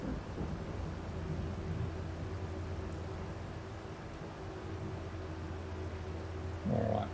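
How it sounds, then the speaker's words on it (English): Distant thunder rolls as a low, continuous rumble in Farming Simulator 22 during a soybean harvest. It stays faint and steady throughout, with a brief swell near the end and no talk. "Well, that thunder's nice and loud."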